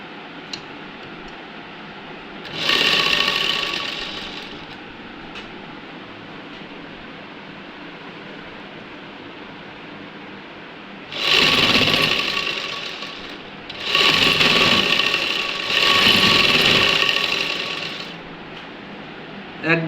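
A sewing machine stitches a housecoat in three bursts of rapid mechanical whirring: one short run, a pause, then two longer runs close together, heard near and clear over a quiet room.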